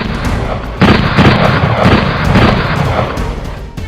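Gunfire staged for a live-action film shoot about the history of Branson: a loud, sharp blast followed by a dense run of booming, crackling bursts that stays heavy and close for several seconds.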